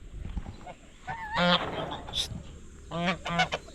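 A goose honks inside a duck pen, giving a few loud, nasal honks close by in quick bursts, with brief rustling and some faint human voice in the background.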